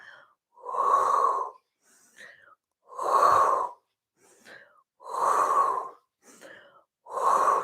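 Someone doing a Pilates exercise takes deep, audible breaths, alternating loud exhales with softer inhales in a slow, steady rhythm, close and clear with no talk over them.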